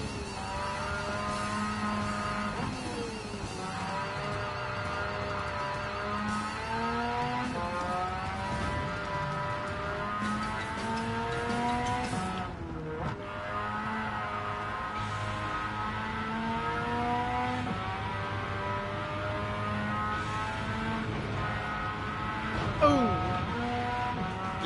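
A race car in Gran Turismo 7 revs steadily with engine pitch rising and falling through downshifts and upshifts, a continuous game engine drone lasting over twenty seconds with a brief dip midway, no talking.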